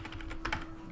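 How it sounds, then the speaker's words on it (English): Computer keyboard keys tapped in a quick, fairly steady run with a couple of slightly louder strokes near the middle, close and alone with a faint steady hum behind. "typing in the right numbers"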